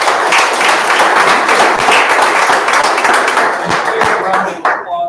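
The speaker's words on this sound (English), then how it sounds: "A round of applause for all the volunteers" A roomful of people applauding at an astronomy club meeting, loud dense clapping that continues steadily throughout with a few sharper individual claps standing out near the end.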